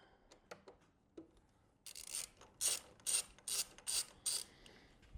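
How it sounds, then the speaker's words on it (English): A hand ratchet with a 6mm socket loosens a bolt while a steering damper is fitted to an MV Agusta F3 800 motorcycle. Five or six crisp bursts of rapid clicking come close together, alone and nearby. "now we're going to grab our 6mm again along with our ratchet and loosen up this one"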